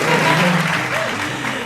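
A small studio audience at an Indonesian chat show claps steadily, a dense, continuous patter of many hands close by that fades slightly toward the end, with no voices standing out.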